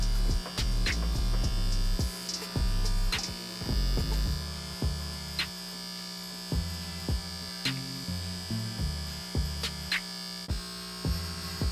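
An electric hair clipper buzzes while cutting hair for a hightop fade on dreadlocks, switching on and off in repeated short bursts with a steady mains-like hum, close and clear, no talking.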